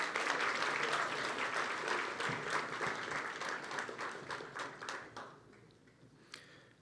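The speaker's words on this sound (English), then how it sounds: "One more round of applause for honoree Elise de Castillo." An evening diversity celebration crowd claps for an honoree, dense applause that starts full and gradually tapers off into scattered claps and then quiet.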